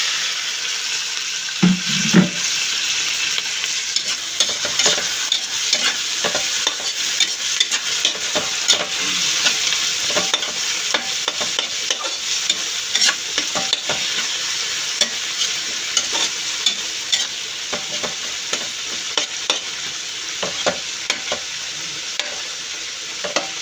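Onions and tomatoes sauté together in a pan for tuchiong bangus, a steady close sizzle broken by frequent scraping spatula strokes throughout.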